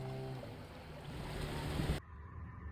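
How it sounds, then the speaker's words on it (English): A steady broadband water-and-motor wash from an outboard-powered canoe moving along a river in the Darien Gap, continuous and fairly close, cutting abruptly to a quieter drone near the end. "As the river opened up, a driver and his outboard canoe appeared."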